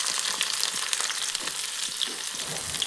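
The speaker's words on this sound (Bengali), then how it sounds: "গোটা গরম মশলাটা ভাজা হয়ে যাওয়ার পর এখানে দিচ্ছি পেঁয়াজ কুচি" Chopped onion crackles and sizzles in hot oil in a wok, a steady close-up frying hiss with small stirring scrapes and pops throughout, no voices.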